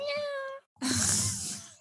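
A voice imitates a cat's meow with a drawn-out, tonal mew, followed after a brief pause by a breathy, sighing vocal sound.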